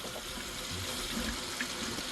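Water running steadily from a tap in an RV, supplied by a newly installed pump and water bladder; a continuous, close hiss and splash holds even throughout with no talking.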